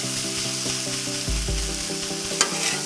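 Beef and noodles sizzle steadily on a Blackstone griddle while they are mixed around, a dense close frying hiss with a low rumble underneath and one sharp metallic scrape near the end.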